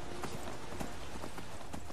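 Horse hooves in the video game Skyrim as a stolen horse climbs stone stairs, a steady run of repeated hoof thuds, close and evenly loud across the clip.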